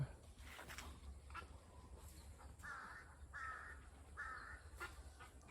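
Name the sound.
crow cawing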